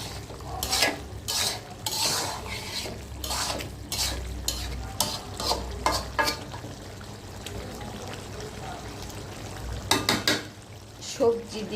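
Vegetable and dried fish curry stirred and frying in a pan, with repeated scraping stir strokes over a steady sizzle, close and moderately loud, with occasional utensil clinks.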